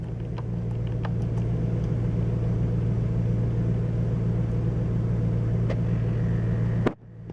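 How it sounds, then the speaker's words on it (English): A 2004 Cadillac Escalade engine with a bad clutch fan idles at a loud, steady drone with a constant hum and a few faint clicks, then cuts off abruptly near the end. "I think we got a bad clutch fan. Hear that like whining noise when it revs up?"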